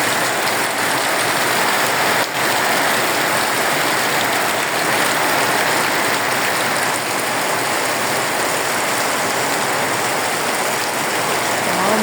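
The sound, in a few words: heavy rain pouring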